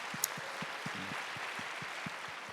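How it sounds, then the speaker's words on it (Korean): A church congregation at a young adults' worship service claps in blessing, a soft, steady patter of applause with regular low thumps keeping time beneath it. "축복하며 박수하도록 하겠습니다"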